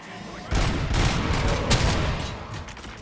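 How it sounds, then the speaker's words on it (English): Grenade explosions in the video game RoboCop: Rogue City, a loud sudden broadband blast followed by a sustained rumbling roar with a sharper burst near the middle, close and alone without talk. "Goddamn grenades."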